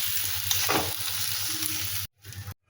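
Potatoes frying in hot oil give a close, steady sizzle with a brief crackle, then cut off abruptly and return faintly before stopping.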